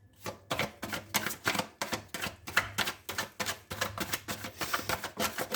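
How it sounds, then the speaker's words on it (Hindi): A deck of tarot cards being shuffled by hand, a steady run of crisp riffling bursts with short pauses between them, close and fairly quiet, with no one talking. "फिर हम कार्ड शफल करना शुरू करते हैं।"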